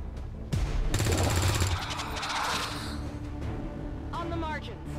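Rapid gunfire in XCOM 2 rattles out as a loud sustained burst aimed at an alien, with a voice speaking briefly near the end.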